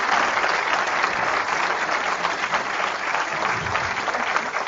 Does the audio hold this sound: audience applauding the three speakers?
yes